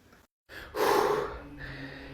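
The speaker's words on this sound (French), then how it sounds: "Je suis essoufflé par l'intensité de la PL." A football fan, out of breath after a 5-2 PSG win over Chelsea, gives a sharp, loud gasping breath with a heavy exhale, after a brief moment of silence.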